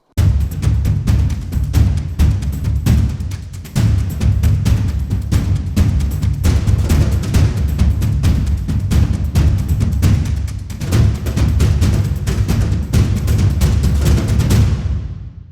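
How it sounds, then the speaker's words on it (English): A powerful, loud cinematic percussion groove of ensemble booming bass drums, toms and multicultural percussion, playing continuously with a driving rhythm and a brief pause near the start. "Ensemble Bass and Toms and Ensemble Multicultural Percussion from different"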